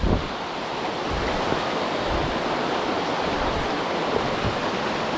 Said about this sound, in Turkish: Burası dağın içinden suyun şelalenin üst tarafının geldiği yer.